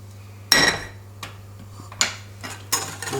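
Hot milk cream is mixed into a flan pâtissier batter with an apple filling, heard as three sharp clinks of utensil against bowl separated by quieter scraping, over a low steady hum.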